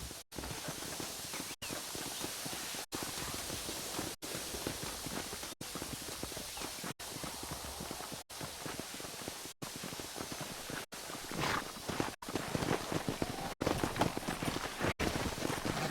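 Horse hooves in Red Dead Redemption clip-clop in a steady, rhythmic gait over a constant hiss, with no voices.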